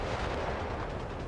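Anti-tank cannon fire from the World War II strategy game Company of Heroes 3, a dense, loud, rumbling boom of battle noise filling the whole moment without any talk.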